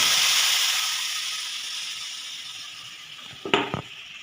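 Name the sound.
cumin, ginger, chilli and tomato paste sizzling in hot oil in wok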